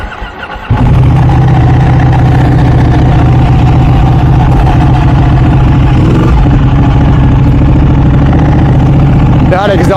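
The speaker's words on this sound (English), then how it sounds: "That exhaust sounds so good." A Ducati 1199 Superleggera with a full race exhaust starts up and settles into a loud, close idle with a steady deep rumble throughout, ending with a brief throttle blip.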